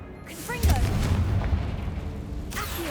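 A Confringo spell explodes in the Hogwarts Legacy game with a loud, deep rumbling boom that rolls on for a couple of seconds, followed by a fresh whooshing burst.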